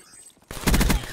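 A gun in Black Ops 3 multiplayer fires a quick, close burst of several rapid shots after a short quiet moment.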